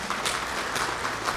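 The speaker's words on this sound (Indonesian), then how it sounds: "Tepuk tangan untuk kita semua." Brief applause from staff at a company anti-fraud gathering, a steady burst of many hands clapping at moderate level through the short moment.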